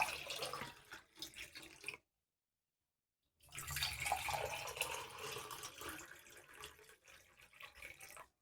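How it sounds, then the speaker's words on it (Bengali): Water poured into a container in a home kitchen, a steady splashing gush that stops for over a second and then resumes for several seconds, fairly quiet with no talk. "আর এই যে এখন আমরা জলটা ঢেলে নিই"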